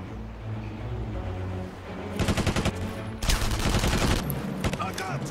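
Bursts of gunfire in the World War II shooter Enemy Front at Saint-Nazaire, two dense volleys of overlapping shots breaking in after a low rumbling lull, moderately loud against steady background noise.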